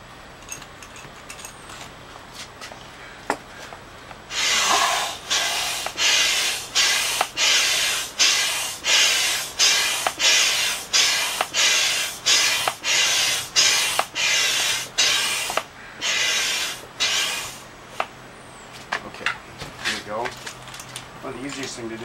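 A hand pump inflates an inflatable kayak seat to 3.5 psi, a steady run of about twenty rhythmic hissing strokes, close and fairly loud, with a few scattered clicks before and after.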